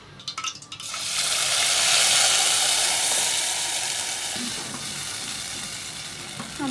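Moong dal paste hits hot ghee in a kadhai with a sudden loud sizzle that swells into a bright, steady frying hiss, easing slightly as it is stirred, with a few clinks of a spoon against the pan.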